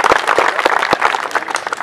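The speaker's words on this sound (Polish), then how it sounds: "Również brawa." Loud, dense crowd applause at a municipal volunteer fire brigade competition, greeting a placed team, with distinct close claps punctuating a continuous wash of clapping.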